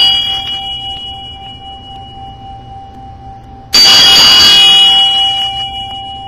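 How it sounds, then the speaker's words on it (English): A single loud bell strike rings out after a quiet hum, its bright metallic tone slowly fading away. "So let's ring our bell."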